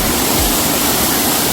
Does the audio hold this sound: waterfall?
yes